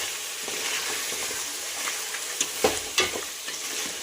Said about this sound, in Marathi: अर्धा चमचचा काळा मसाला आणि चवीनुसार मीठ याला छानपैकी असं फ्राय करून घ्यायचं आहे